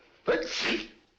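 A single loud, close sneeze, a sharp intake bursting into a breathy spray that fades within a second.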